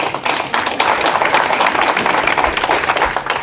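A room of attendees at a county commissioners meeting breaks into steady applause after a presentation, a dense patter of clapping that holds evenly throughout.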